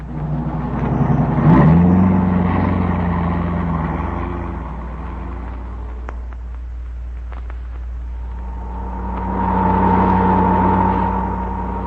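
A car engine in an old-time radio drama sound effect, rumbling and revving as the car drives off, steady motor noise rising again near the end.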